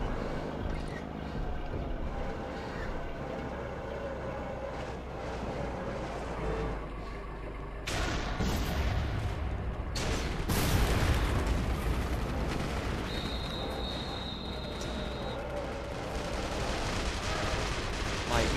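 Tank cannon fire in the World War II video game The Saboteur: heavy booming blasts that burst out and roll on, loud and broad, with rumbling battle noise in between and a short high whine near the end.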